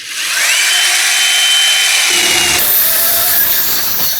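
An extended pole chainsaw cuts through a thick tree branch, giving a loud, sustained high-pitched whine. The pitch shifts partway through as the blade bites into the wood, and no one talks.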